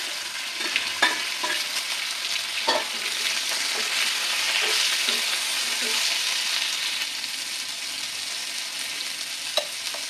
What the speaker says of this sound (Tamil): இந்த பருப்பு கொஞ்சம் நல்லா வறுபடுற வரைக்கும் இதை வறுத்துக்கலாம்.